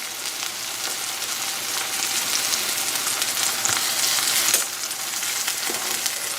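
Zucchini pieces sauté over medium heat in a pan with a little sea salt, giving a steady, close sizzle and frying hiss that runs throughout with no talking.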